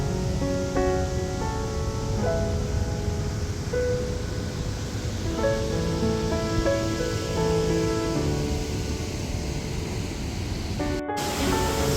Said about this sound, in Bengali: সেই রিভারের জল দিয়েই তৈরি করা হয়েছে এই ফেনেলন ফলস